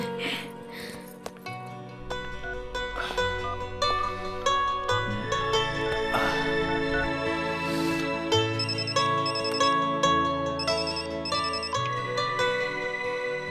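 A mobile phone rings with a melodic ringtone for an incoming call, a steady tune that plays continuously and fairly loud for about fourteen seconds with no talking over it.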